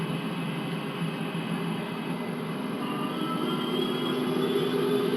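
An airliner in Microsoft Flight Simulator X spools up for takeoff, its jet engines giving a steady, loud, broad roar that holds evenly throughout with no talk.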